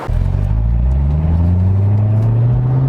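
A Chevy Corvette engine pulls away loud and close, a deep steady drone that rises smoothly in pitch as the car accelerates.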